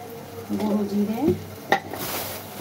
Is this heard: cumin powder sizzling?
yes